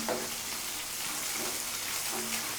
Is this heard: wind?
no